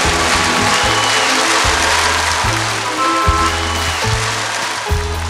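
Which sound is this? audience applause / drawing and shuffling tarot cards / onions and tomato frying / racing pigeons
audience applause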